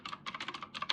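Quick, crisp clicks of a computer keyboard being typed on, close and soft, in a rapid uneven rhythm with short pauses.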